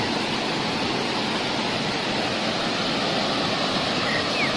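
The Luceret Roro Kuning waterfall pours in a steady, dense roar of falling water beside a river, constant and loud with no voices.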